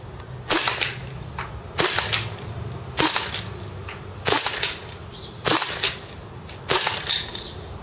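A Marushin M2 Carbine gas airsoft gun shoots 8mm BBs at a target, with six sharp cracks spaced about a second apart, each followed by a short tick of impact or action noise.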